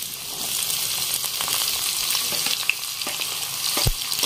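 Finely chopped onions, three medium ones, fry over high flame in hot oil with cumin, giving a loud, continuous sizzle with small pops and a brief stir near the end.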